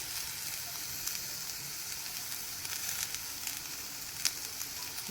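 Bitter gourd pieces fry in a pan for agalkayi gojju, producing a steady, faint, even sizzle with a few small crackles and pops throughout.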